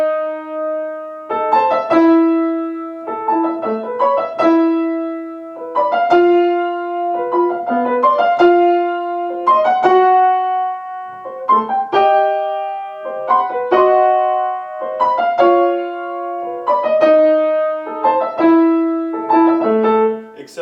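Piano played with both hands together in a steady rhythmic pattern, phrases landing and pausing on octaves, clear and close with no talking.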